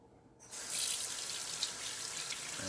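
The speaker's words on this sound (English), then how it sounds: "Rinse off his roots and everything" Water runs steadily from a tap as soil is rinsed off the roots of a small basil plant, a continuous close splashing hiss that starts abruptly after a brief quiet moment and carries on without a break.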